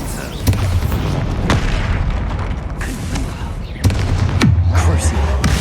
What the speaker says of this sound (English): Expulsor!